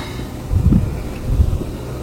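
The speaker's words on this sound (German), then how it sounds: "Ah, hier ist schon windig." Wind gusting on an exposed mountain hike to the Gaisalphorn in the Allgäu, a low rumbling buffeting against the microphone in two swelling gusts over a steady breezy background.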